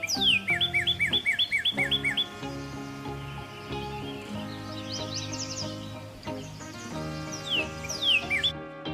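A cardinal sings a rapid series of clear, sweeping whistled notes, repeated in quick bursts, heard over a steady musical backing.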